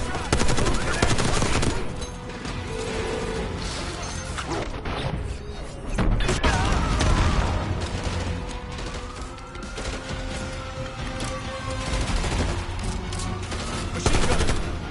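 Machine-gun fire in the Call of Duty: Black Ops 6 campaign, dense bursts of gunfire running through a busy firefight with other combat noise, swelling and easing in repeated waves.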